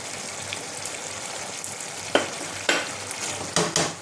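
A spoon stirs kasuri methi and chopped coriander into a simmering Bengali drumstick curry, giving a soft background sizzle broken by a few sharp scraping strokes against the pan toward the end.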